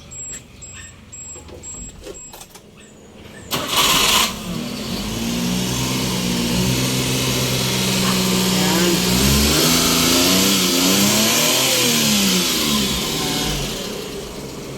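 After some clicks and a short burst, the Suzuki F6A engine in a 4x4 catches and settles into a steady, close mid-pitched run with slight revving, the fuse just repaired.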